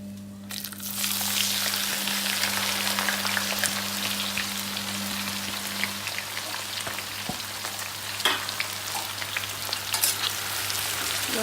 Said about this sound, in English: Now I'm reducing the flame and adding in the onions.